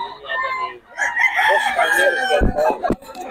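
A rooster crows loudly nearby while chickens cluck around it, followed by a few sharp bursts, with faint voices in the background, in Bocaue, Philippines.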